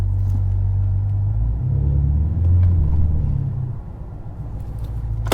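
An Audi R8 engine runs steadily at a tire shop while its transmission is tested, giving a loud, deep low rumble that swells briefly as it is put into gear, then settles back to idle.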